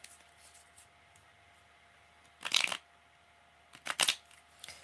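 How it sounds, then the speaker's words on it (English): Tarot cards shuffled by hand during a reading, two short crisp riffling bursts separated by quiet, close and fairly loud with no talk. "give me a minute to shuffle"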